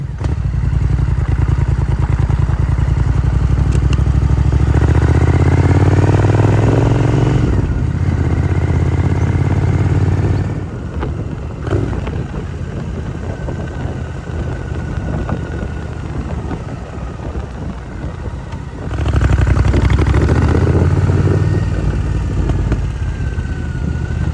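A Triumph Scrambler 900 motorcycle starting cold and idling outdoors, its loud, close engine running steadily with a deep throbbing rumble that dips in level midway and then rises again, with some wind noise and no talk.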